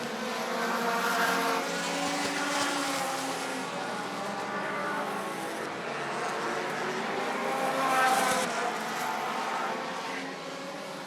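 Midwest Dash Series race cars lapping Rockford Speedway late in a feature race give off a steady, distant engine roar that swells and fades as they pass, alone with no voices.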